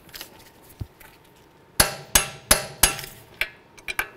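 A wrench strikes metal during front strut installation on a 2010-2015 Kia Sorento, a series of about six sharp, ringing metallic blows at uneven spacing, close and loud, after a few lighter taps.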